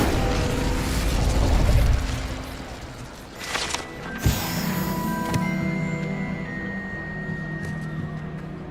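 Incendio fire spell cast in Hogwarts Legacy: a rumbling magical hum leads into a sharp fiery burst near the middle, followed by a sustained crackling whoosh with ringing tonal layers that linger to the end.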